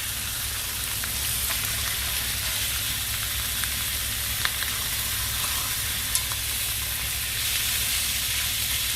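Lamb chops sizzle steadily in a frying pan, a constant bright crackling hiss with a few sharper pops and no voices.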